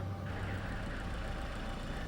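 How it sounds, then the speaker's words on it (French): A car engine idles with a low, steady rumble, fairly quiet and continuous throughout, with no voices. "Coupe le moteur. Il risque de voir la fumée du pot d'échappement."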